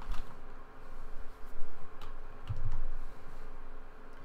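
Faint, irregular keystrokes patter on a computer keyboard while Ruby code for a hash is typed, with soft scattered clicks over a quiet background.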